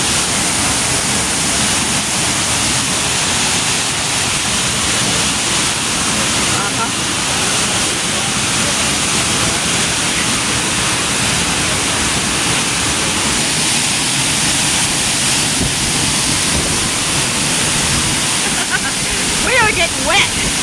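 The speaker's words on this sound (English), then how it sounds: "Follow behind the fall now." Dry Falls, a waterfall off Highway 64 in North Carolina, roars from close behind the curtain of falling water as a loud, steady, broadband rush that never lets up.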